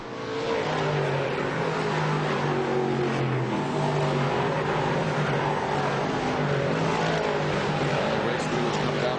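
Dirt track race car engines roaring at Super Dirt Week in Dirt Track Racing 2002, a steady loud drone of several engines with shifting pitches as cars run through the corners, under faint commentary.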